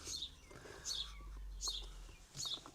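Birds chirp outdoors in four short, high bursts, evenly spaced and fairly faint, over a low background rumble.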